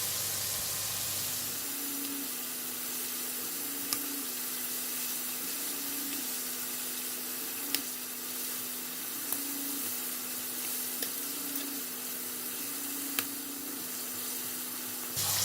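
Prawns for salted egg prawns fry in hot oil with a steady, even sizzle and a few faint clicks, and a low hum pulses underneath.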